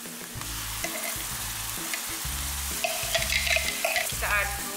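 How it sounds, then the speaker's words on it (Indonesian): Ground spice paste for goat curry sautéing in a pan, a steady loud sizzle with rhythmic scraping and stirring strokes throughout. "Kita aduk, kita tumis sampai matang ya."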